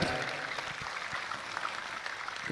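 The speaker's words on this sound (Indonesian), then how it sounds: "tepuk tangan untuk Az-Zahir" A crowd claps in a dense, continuous patter, the sound of scattered hands blending together at moderate volume.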